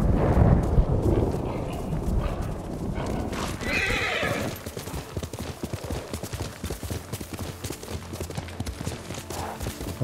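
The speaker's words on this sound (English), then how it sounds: "while you're riding the horse" A horse neighs loudly, then hooves pound in a fast, steady gallop, with a rumbling wash of background noise early on, in the video game Ghost of Tsushima.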